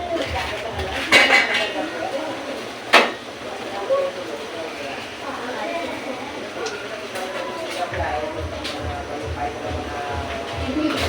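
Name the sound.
squid being put into the pan for cooking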